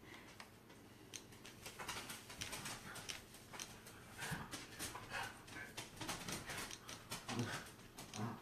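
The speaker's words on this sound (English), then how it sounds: "Gotta love those silly, silly dogs." Dogs whimpering and panting nearby, a faint, irregular series of soft whines and breathy sounds over a quiet room.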